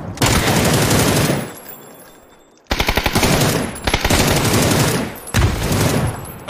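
Automatic gunfire in a first-person shooter game, fired while moving, in rapid loud bursts of shots with brief pauses between them, close and dominant.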